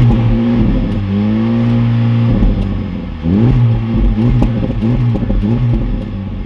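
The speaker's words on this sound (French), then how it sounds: "nous allons démarrer la voiture. Et nous allons écouter le bruit de l'échappement à l'arrière." A Honda Civic Type R starts and revs while standing still, the exhaust giving a loud deep burble that swells in repeated blips toward a limited rev ceiling, heard close to the tailpipe with no talking.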